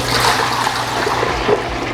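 Cleaning solution draining out of a Taylor C712 soft serve machine, a loud steady rush of flowing water with a low rumble, close by and continuous.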